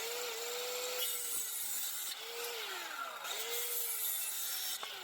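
Treated lumber cross members being cut by hand for an outdoor table, heard as steady back-and-forth saw strokes of rasping wood, close and continuous, with no voices.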